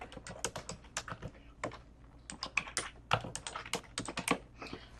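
Computer keyboard and mouse in use while editing in the PicMonkey photo editor: irregular close key taps and clicks in quick bursts, steady and fairly crisp, with no talk.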